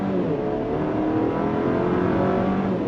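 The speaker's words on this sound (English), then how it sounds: "On throttle, here we go. Gets the power to the ground nicely." A 2024 GMC Acadia Denali SUV in sport mode under full throttle, its engine droning loud and steady from inside the cabin with a rising roar and road rumble throughout.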